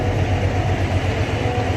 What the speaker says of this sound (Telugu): ఇప్పుడు ట్రైన్ అయితే స్టార్ట్ అయిపోతుంది.